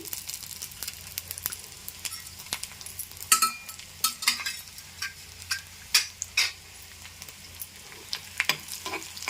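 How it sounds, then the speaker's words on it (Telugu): Garlic and lentils frying in oil for a tempering, a soft continuous sizzle broken by repeated scraping, stirring clinks of a spoon against the pan, close and clear with no talking. "ఇప్పుడు ఎల్లుల్లిపాయలు వేసాం కాబట్టి చక్కగా ఏగుతూ ఉంటాయి"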